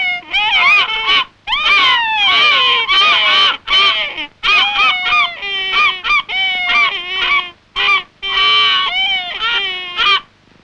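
Skua gulls in Antarctica give loud, harsh honking and cawing calls in repeated bursts with brief gaps, close and dominant.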